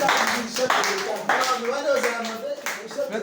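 A church congregation applauding the pastor, dense close clapping with voices talking and calling over it throughout.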